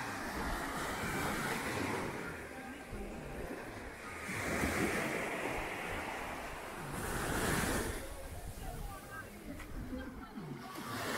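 Waves on a beach in Cap Haitien, Haiti, washing in as soft, faint surges that swell and fade every few seconds over a light wind hiss.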